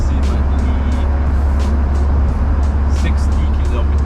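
Classic Mercedes G-Wagon pulling away in second gear at around 60 km/h, a loud steady cabin drone of engine and road noise with a low constant rumble throughout.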